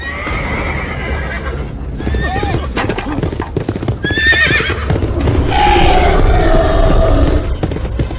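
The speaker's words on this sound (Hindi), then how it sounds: "घोड़े को पकड़ो।" A horse whinnies repeatedly over the clatter of hooves in a Ramayana cartoon battle scene, loud and close throughout, with no talk.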